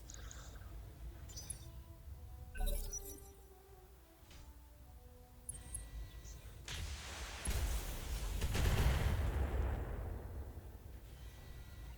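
Laser weapon fire in the Battletech video game, zapping shots with ringing tonal sweeps, followed by a heavier rumbling blast, all at moderate volume with no voices.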